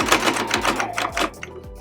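A sewing machine stitches a seam on a zipper pencil pouch, a fast, even mechanical chatter of needle strokes close up, slowing slightly toward the end with no voices.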